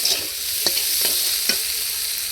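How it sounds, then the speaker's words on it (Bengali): Tomatoes with ginger and garlic sauté in a pan under a loud, hissing sizzle, with a few quick spatula strokes scraping the pan. "আর আদা রসুন দিয়ে টমেটো কষিয়ে নিয়েছি"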